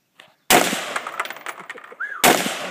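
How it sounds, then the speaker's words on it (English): Two sharp rifle shots at an outdoor three-gun shooting session, loud and close, about two seconds apart, each with a crackling echoing tail and faint rustle between them. "now put that rifle up a little higher. You're going to shoot the barrel like that."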